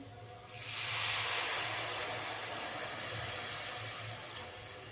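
Soaked tamarind water is poured from a bowl into a pot of bitter gourd pulusu: a close, steady splashing pour starts suddenly and then slowly fades.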